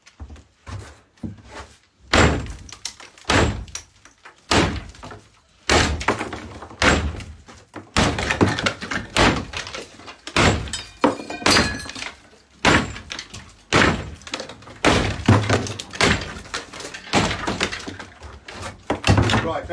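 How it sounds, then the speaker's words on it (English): Sledgehammer knocking down walls during an asbestos-safe strip-out of a seafront building at Jaywick Sands: heavy irregular thuds and crunching impacts with debris falling, repeated loudly throughout, with occasional voices in between. "when you're knocking down the walls, you don't want chips coming over"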